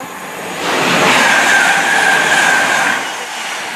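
A Class 350 electric multiple unit passes at speed on the West Coast Main Line at South Kenton, bound from Crewe to London Euston. A steady rush of wheels and air swells, holds for about two seconds with a thin high squeal, then fades.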